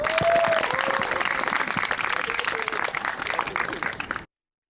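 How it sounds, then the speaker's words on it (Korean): An audience applauds during a competition show, with dense clapping from the start that holds steady and then cuts off abruptly. A brief tone sits under it early on. "다시 한번 박수로 한번 시작하겠습니다."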